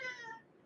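A person imitates a kitten's meow, a brief, close, high-pitched mewing cry that fades after a fraction of a second, during a radio talk show.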